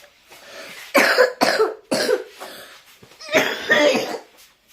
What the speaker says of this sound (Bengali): কাশিটা বাইরে যাচ্ছে না।